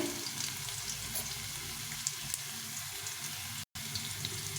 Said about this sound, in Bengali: আলুটাকে ভালো করে ভেজে নিতে হবে